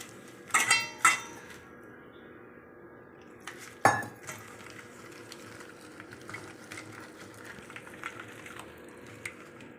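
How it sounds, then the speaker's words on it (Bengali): Lote (Bombay duck) fish being mixed by hand with chili powder and gram flour in a bowl, a few sharp clinks of dish and utensil early on, then soft faint squelching and rubbing. "একটু আমি লঙ্কার গুঁড়ো দিয়ে দেবো দিয়ে বেসন দিয়ে একটু বেসনটা ভালো করে মাখিয়ে নেব"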